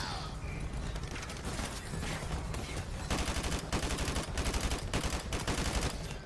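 Rapid automatic fire from Russian guns in Modern Warfare Remastered rattles steadily, growing into louder, distinct rhythmic bursts of closely spaced shots in the second half, with mechanical clatter throughout.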